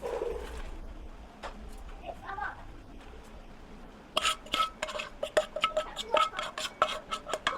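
Metal pot and dishes clank while cooked beans for a bean soup are transferred, with soft scraping at first, then a burst of sharp clinks and knocks in the second half, close and moderately loud.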